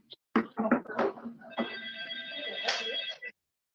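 A telephone bell rings in a sustained electronic trill for about two seconds, preceded by a few short bursts, loud and close with no talking over it.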